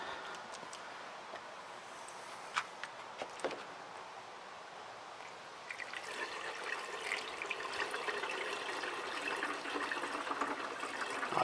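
Plain water is poured into the washer fluid reservoir of a Volvo 740, giving a faint, close trickle that grows steadier and fuller in the second half, with light handling sounds early on.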